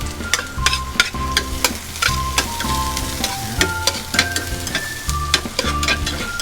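Garlic frying in oil in a pan gives a steady sizzle, broken by repeated scraping and knocking of a utensil stirring it, close and fairly loud with no talking.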